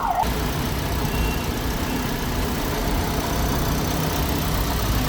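A Toyota Vios engine in good running condition, freshly oil-changed, idles nearby with a steady, even low hum and no change in pace for a few seconds, no talk over it.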